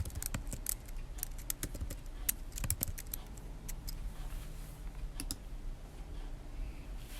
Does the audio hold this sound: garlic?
no